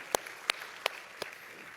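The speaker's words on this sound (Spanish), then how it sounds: "Dale un fuerte aplauso a Él." A few sparse hand claps from a church congregation during a sermon, four sharp, evenly spaced claps, faint and distant, with no talking.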